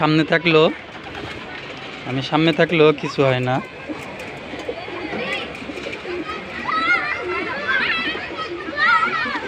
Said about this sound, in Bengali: আমার কবুতর আমাকে চিনে